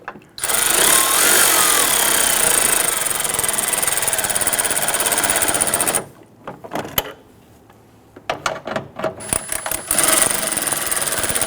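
A power tool whirs steadily while snugging down plastic coolant reservoir fasteners on a 2011-2015 Kia Sorento, then stops and restarts in short bursts and clicks before running continuously again; no talking.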